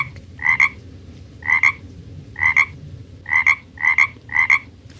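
A woman imitates a frog with her voice, producing six close, rhythmic croaking bursts in evenly spaced pairs, loud and clear with no other talk.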